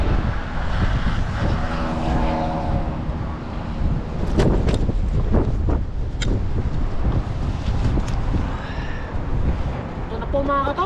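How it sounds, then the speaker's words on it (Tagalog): Strong wind roars continuously against the microphone, with brief voices and clatter mixed in underneath. "Tapos malakas yung hangin."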